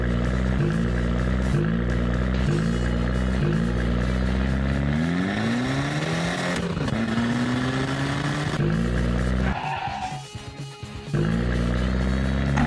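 A cartoon monster truck built with huge wheels and heavy suspension revs its engine loudly, rising and falling pitch sweeps roaring continuously up close, with a brief dip near the end.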